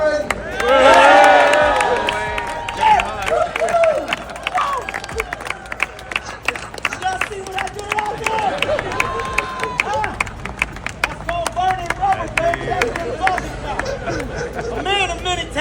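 A big crowd applauds and cheers at an event for Qatar Airways' Formula 1 themed aircraft, with loud clapping peaking early before settling into steady applause while a presenter keeps talking over it.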